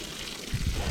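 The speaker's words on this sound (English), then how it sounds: "I want to dump some water on these garden beds" Water pours onto soil in a newly set-up garden bed, a short, close splashing gush that grows heavier partway through.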